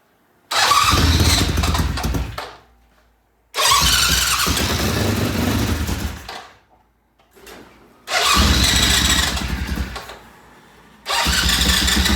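A vintage British motorcycle in a repair shop starts four times in a row, each burst of engine roar running a second or two before dying back to silence, loud and close.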